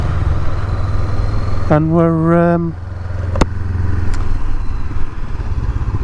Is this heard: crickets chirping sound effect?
no